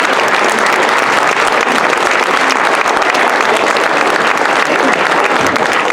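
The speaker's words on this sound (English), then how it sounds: "Let's give him a big round of applause." Sustained audience applause at a community history talk, steady and dense hand clapping filling the whole stretch with no speech over it.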